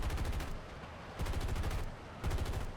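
M2 machine guns on a P-80 jet in War Thunder fire three short, rapid bursts, separated by brief gaps under a steady engine hum.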